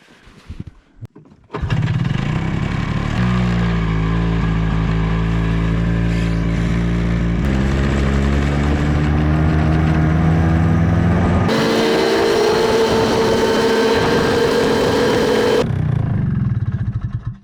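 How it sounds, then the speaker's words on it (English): A snowmobile engine starts and then revs hard and steadily while pulling lumber over snow, its droning pitch climbing in stages, loud and close, and it cuts off at the end. "Snow machine is not very powerful."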